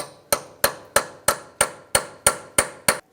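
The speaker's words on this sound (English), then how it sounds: "we're going to use a small punch, just open that back up, just enough to spin that nut off" Steel hammer striking a small punch to unstake the axle nut on a 2007-2015 Mazda CX-9 CV axle: ten sharp, evenly spaced metallic blows, close and loud, each ringing briefly before the next.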